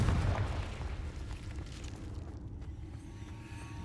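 A Confringo spell detonates in Hogwarts Legacy as a dense, rumbling explosion with a loud opening burst, then a continuous churning roar that fades only slightly over several seconds.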